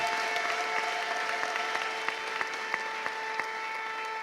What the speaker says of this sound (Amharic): ለእግዚአብሔር ክብር እልልታና ጭብጨባ ስጡ።